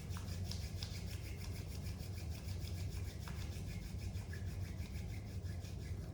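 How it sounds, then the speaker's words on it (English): Palms rub together during a meditation exercise, making a close, steady dry swishing friction that runs continuously and fairly quietly with no voice over it. "Rub your palms."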